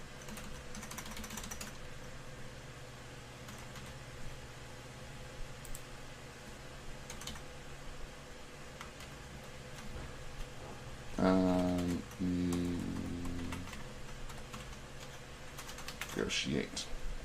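Typing on a computer keyboard: faint, irregular clicking of keys in the background, with a short louder burst of keystrokes partway through. Talk can be heard.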